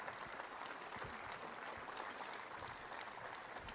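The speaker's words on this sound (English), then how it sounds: "So if you can give a round of applause for our city council, I'd appreciate it" An audience gives a round of applause for the city council at a State of the City address, a continuous, fairly soft spread of many hands clapping.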